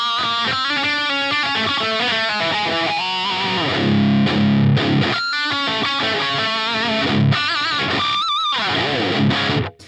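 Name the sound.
electric guitar through Uber Sonic amp model on Line 6 Helix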